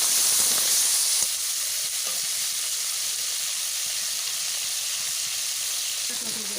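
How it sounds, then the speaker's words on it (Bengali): Steady, loud sizzling of mud crabs frying in hot oil fills the whole stretch, a constant bright crackle with faint clinks now and then. "কাঁকড়াগুলো ওই তেলের মধ্যে দিয়ে ভালো করে ভেজে নেব"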